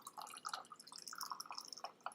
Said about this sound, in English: I know there's a lot of background sound because I'm pouring a drink